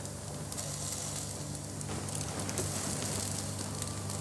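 Falafel bound with oat flour fries in a pan with a soft, even sizzle and crackle that stays close and steady, with no voices.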